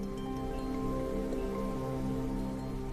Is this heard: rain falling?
yes